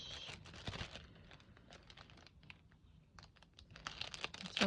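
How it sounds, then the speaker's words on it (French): Paper crinkling and tearing in quick, irregular bursts, close by, with brief pauses between handfuls of rustling. "Désolée pour les bruits de papier."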